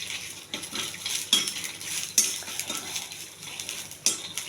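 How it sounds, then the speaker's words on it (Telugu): Peanuts, dried red chillies, tamarind and coriander dry-roasting in a pan with no oil, a metal spatula scraping and clinking against the pan in irregular strokes over a faint sizzle. "కొద్దిగా కొత్తిమీర, ఇవన్నీ వేగించాలి."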